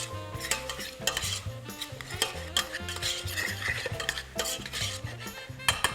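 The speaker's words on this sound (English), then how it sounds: "I'm using the back of my spoon to basically make sure the mince is completely squashed" A metal spoon scraping and pressing browning beef mince in a hot pan for chilli mince, a busy run of repeated clinks and scrapes over a light sizzle, close and fairly loud.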